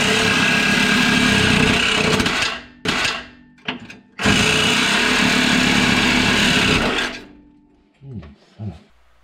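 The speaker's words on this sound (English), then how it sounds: "I'm starting here using the reciprocating saw, but it doesn't work out the best here" A reciprocating saw cuts through the tailpipe of a 1998 Chevrolet Blazer, loud buzzing bursts of several seconds each with brief stops and short catching stutters between cuts, no talk.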